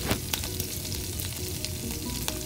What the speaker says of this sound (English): curry leaves, fry for a minute.